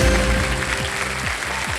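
Applause from a studio audience on the Indian TV quiz show Kaun Banega Crorepati, a steady broadband clapping wash with low tonal music running beneath it and no talk.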